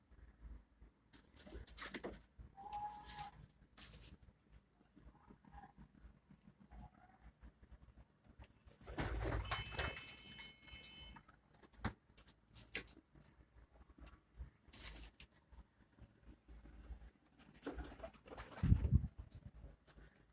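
Pigeons coo intermittently on a rooftop, soft and somewhat distant, with scattered bursts of wing flutter and outdoor noise between quiet gaps.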